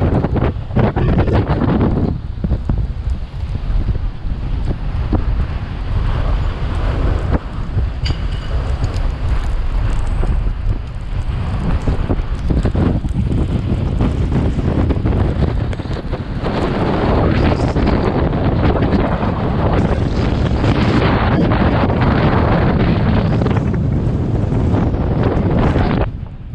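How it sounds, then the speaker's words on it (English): Strong, gusty wind batters the microphone during a California storm near a volcano, with snow falling; a loud, continuous roar with buffeting surges that persists for the whole stretch without letup. "this has got to be some sort of crazy record as far as wind in this town"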